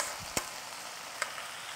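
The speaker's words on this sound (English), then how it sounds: "Now what I am going to do is, I am going to add the onions" Onions stir fried in a pan sizzle faintly and steadily, with two sharp clinks or scrapes of a utensil against the pan, no voices.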